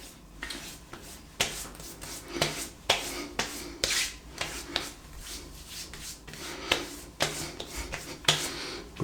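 Hands rub shaving soap lather into the face, giving soft, close, irregular scrubbing and swishing strokes in uneven bursts, quiet and with no talking.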